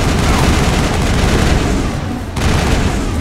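Sustained gunfire in the Mass Effect video game, dense overlapping weapon shots in a continuous barrage on a beach, loud and close with a brief dip in intensity before firing resumes.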